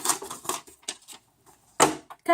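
A gift wrap cutter slices through wrapping paper in two quick, crisp strokes: a short scraping burst near the end, then another brief cut, with pauses of near silence before them.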